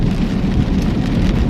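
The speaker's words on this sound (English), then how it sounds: "here starts to rain again." Heavy rain falls steadily and loudly close by at night, a dense continuous patter and rush with no voices.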